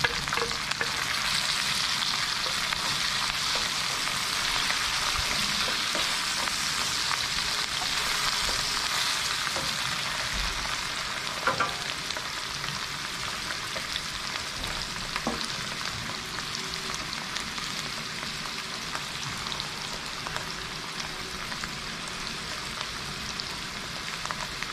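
Mushrooms sauté in a pan with black pepper, a continuous dense sizzle and hiss with occasional stirring clicks, close and steady throughout with no talking.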